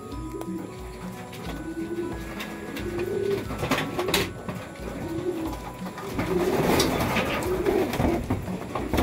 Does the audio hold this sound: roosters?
no